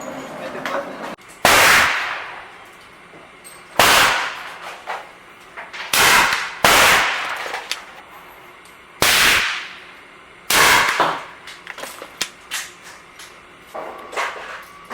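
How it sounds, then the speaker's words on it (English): Gunshots fire traditional lube cast 260-grain wad cutter bullets loaded over 6.3 grains of 231 powder at a range, with about six sharp, loud reports spaced a couple of seconds apart and faint background noise between them. "we're going to go ahead and shoot the traditional Lube wad cutters now"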